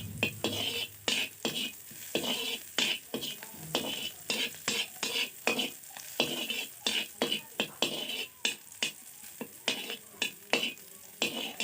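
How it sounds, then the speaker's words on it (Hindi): Drumstick (munga) bhaji frying in a pan in a village kitchen, with a steady sizzle broken by frequent short scrapes and clinks of a spoon stirring against the pan. "जैसे हम अभी आपको तल कर दिखलाएं उसी तरह से आपको भी तलनी है।"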